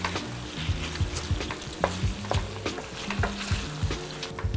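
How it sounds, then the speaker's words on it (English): Vegan mapo tofu simmers in a pan with steady close sizzling and frying, broken by the scrape and clatter of stirring throughout. "I'm gonna allow this to simmer for about 5 minutes or so"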